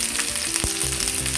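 Onions sizzling and frying in a little oil in a pan, a loud steady hiss with a brief stirring scrape midway, no voices.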